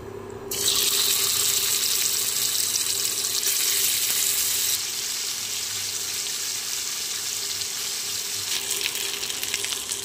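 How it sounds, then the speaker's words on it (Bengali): Silver carp fish pieces frying in hot oil in a kadai, a sudden loud hiss as they hit the oil that holds steady, easing slightly midway and sizzling on strongly to the end. "কড়াতে তেল গরম করে নিয়েছি, একে একে মাছগুলো দিয়ে ভেজে নেব।"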